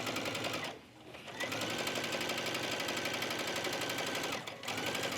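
A sewing machine back stitching and then stitching forward on a tunic placket, a rapid mechanical whirring chatter that pauses briefly twice, near and loud.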